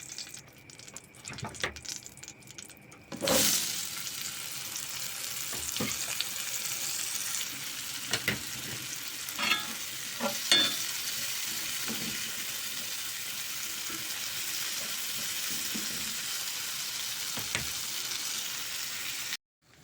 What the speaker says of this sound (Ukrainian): Тепер на оцій олійки, що смажили рибу, я піджарю цибулю.